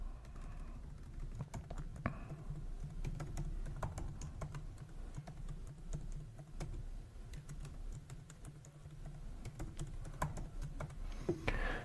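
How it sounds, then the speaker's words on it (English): Quiet, rapid keystrokes on a computer keyboard as a password is typed in, a fast irregular patter of clicks close by, with brief pauses and no talking. "And I'm going to type in a password."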